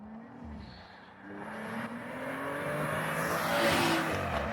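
A tuned B58-engined car with about 500 horsepower revs and climbs in pitch as it approaches and passes close by on the road, growing louder toward the end.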